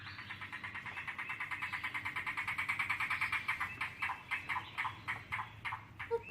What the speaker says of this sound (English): The call of the yellow-billed cuckoo may sound a bit like a car engine struggling to turn over before revving to life.